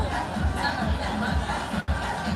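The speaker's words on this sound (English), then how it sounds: "We got a ton of people here on both sides of the grandstands" NASCAR Truck Series crowd filling both sides of the grandstands at Bristol Motor Speedway, a steady murmur of chatter and distant voices with occasional chuckles, close and continuous.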